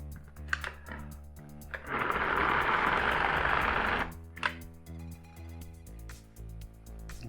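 A food processor grinds meat with ice for Leberkäse, a loud steady whirring burst of about two seconds standing out between quieter handling clatter, with no talking over it.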